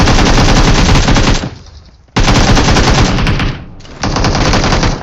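Bursts of rapid automatic gunfire from the BGMI battle game while shooting a bot, loud and close, coming in two long volleys with a short pause between them and a quieter tail at the end.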